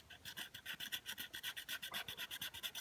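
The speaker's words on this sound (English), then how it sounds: "give them a light sand" Sandpaper lightly sands resin coasters in quick, even back-and-forth strokes, giving a steady rhythmic rasping that is close and fairly soft.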